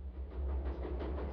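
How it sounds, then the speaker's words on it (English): Brief low rumble of a passing CSX freight train, a steady mid-level roar with a deep hum underneath. "That's the sound of a CSX train doing its part to move the economy forward"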